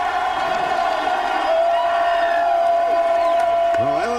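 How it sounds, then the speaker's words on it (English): Loud football stadium crowd at LSU's home game against Ole Miss in 1997 roaring for the Tigers' defense, a sustained full-throated cheer with whoops, a voice briefly breaking through near the end. "And the crowd responds to the Tigers'"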